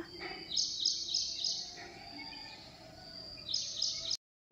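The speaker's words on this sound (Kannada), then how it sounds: "ಮಾರ್ನಿಂಗು ಆ ಹಕ್ಕಿಗಳ ಸೌಂಡ್ ಎಷ್ಟು ಚಂದ ಅಲ್ಲ" Bright, high bird chirps in short bursts, a few small birds calling near the start and again near the end over quiet background.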